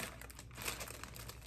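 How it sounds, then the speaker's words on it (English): Wrapping paper crinkles and rustles steadily as a wrapped Christian Dior hat basket bag package is gently opened, close and fairly quiet, with no voices. "gently unwrap it"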